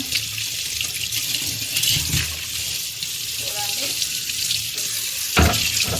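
Tap water runs steadily into a sink as sprouts are rinsed, with splashing and clatter, while a person talks briefly over it.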